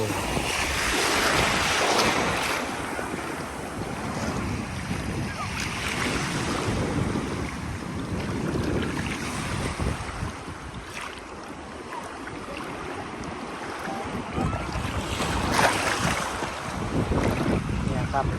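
Sea waves at Nang Ram beach in Rayong, Thailand: a continuous wash of surf and water with wind buffeting the microphone, steady and fairly loud throughout.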